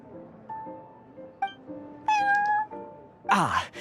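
A cat meows several times in the Cat's Tail tavern of a video game, drawn-out plaintive calls rising in pitch and ending in a louder, harsher yowl, with no one talking.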